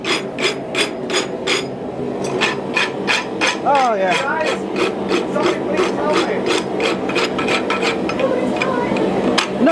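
A farrier rasps a horse's hoof in steady, repeated scraping strokes, loud and close, while people talk nearby.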